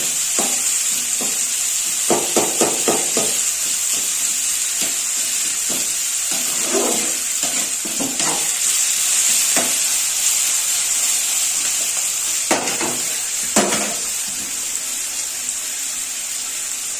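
Onions frying in a pan, with a steady hiss of sizzling oil running throughout and repeated scraping, stirring strokes of a spatula breaking in at irregular intervals, close and fairly loud, with no talking.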